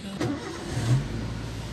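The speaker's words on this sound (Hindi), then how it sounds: "इसी गाड़ी को मैं स्टार्ट कर लिया।" Engine of a 2012 Suzuki Cultus being started, a brief crank followed by the engine catching and idling with a short rise in revs, heard close by inside the car.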